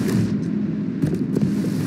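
A Reaper ship blows up in an open-world video game, a loud continuous booming explosion with rumbling bursts and a couple of sharper cracks over about two seconds.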